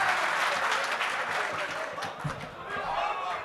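Audience members at a Kul Hind mushaira in Mominpura, Nagpur applaud to welcome a poet to the microphone, a sustained wash of clapping at moderate distance with a few chuckles and voices mixed in.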